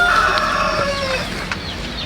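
Plymouth Rock chickens on a farm, a rooster crowing and hens clucking close by in a short burst of loud calls.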